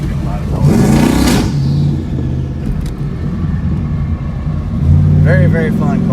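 Single-turbo Ford Coyote car accelerating hard, with a loud, steady engine roar and turbo whine rising in bursts near the start and end, up close throughout.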